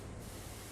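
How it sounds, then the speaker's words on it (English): A large spray washer in PowerWash Simulator blasts a steady, dense hiss throughout, loud and unbroken. "You've got a big spray, which you have to buy liquids for"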